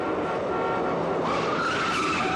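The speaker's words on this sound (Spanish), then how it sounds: "el rechinar de ruedas de un coche que persigue a un tren" Car tires screech loudly and continuously as a car chases a train in a film scene, the squeal rising in pitch toward the end.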